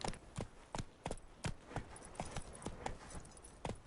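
Steady clip-clop of hooves from Roach, the horse in The Witcher 3, running at an even trotting rhythm with about a dozen distinct, fairly quiet hoofbeats and no talk over them.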